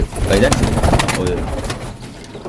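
Pigeons in a loft cooing with low, throaty calls close by, mixed with a voice talking over them.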